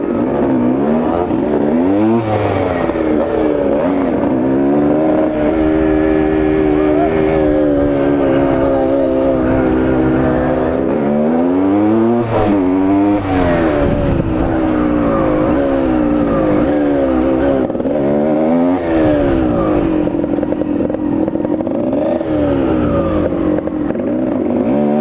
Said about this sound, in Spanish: Ya vimos que la KMX gana y por más.